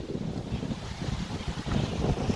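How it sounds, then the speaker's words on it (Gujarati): Strong cyclone wind roars and buffets steadily across the microphone outdoors near a papaya farm, a constant low rumble with no voices. "અત્યારે પવન બહુ જ ખતરનાક વેગ ઉપર ફરે છે"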